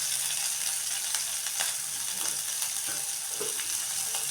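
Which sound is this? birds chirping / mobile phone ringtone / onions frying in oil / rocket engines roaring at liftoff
onions frying in oil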